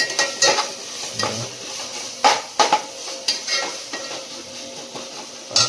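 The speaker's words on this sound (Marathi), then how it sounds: "त्यामुळे टाकू आपण ही आलं लसूणची पेस्ट आलं लसूण आणि मिरची आहे याच्यात आता आता ही परतून झालं आहे" Ginger, garlic and green chilli paste sautés in a pan, with a soft sizzle under sharp, irregular metal scrapes and clinks of a spoon stirring against the pan.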